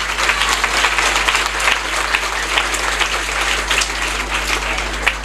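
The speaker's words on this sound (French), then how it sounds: "je ne vais pas terminer sans remercier la classe de CM2 que vous devez applaudir encore une fois" An audience at a private school event in Senegal gives steady, full applause for the CM2 class, a dense wash of many hands clapping at a fairly loud level over a constant low electrical hum.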